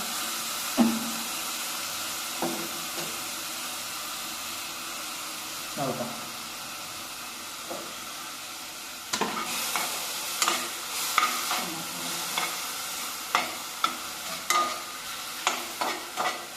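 Tomato and dried red chilli paste fries in a pan with a steady faint sizzle, broken by scattered stirring scrapes and clinks that grow more frequent toward the end.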